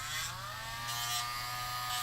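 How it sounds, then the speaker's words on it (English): Light sanding smooths the edge of a plastic model part, giving close, scratchy strokes that swell roughly once a second over a steady low hum. "Just a little light sanding to kind of smooth around the edge"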